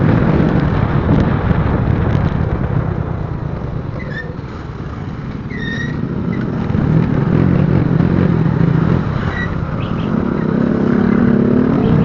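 Motorcycles passing on a residential shortcut road toward Manila and Cavite, a steady engine drone with heavy wind buffeting across the microphone, swelling as vehicles go by.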